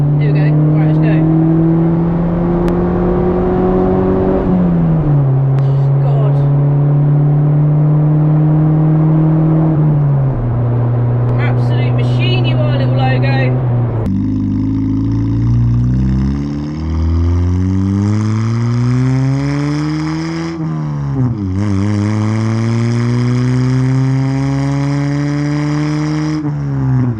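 A modified Honda car with a loud aftermarket exhaust drives along, its engine drone loud and close, holding steady through early shifts and then climbing and falling repeatedly as the revs rise.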